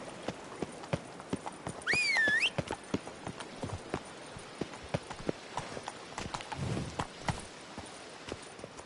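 Horse hooves clip-clopping at a steady trotting rhythm in The Witcher 3 on PS5, with a single loud neigh early on, set against a quiet ambient background with no speech.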